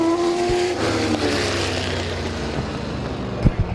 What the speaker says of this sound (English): All race cars are on the track, green flags in the air.